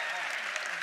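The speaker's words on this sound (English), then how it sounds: "Give a round of applause to everyone you see on stage." Audience applause at a convention stage panel, a brief, steady burst of dense clapping from a large crowd indoors.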